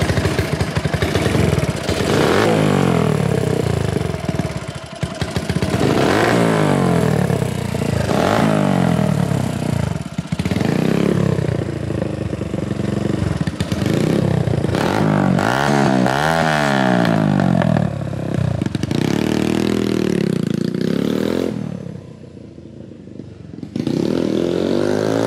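A ten-year-old TVS Apache RTR 180 motorcycle idles and revs, its exhaust note rising and falling in repeated throttle blips, loud and close, with a brief drop near the end.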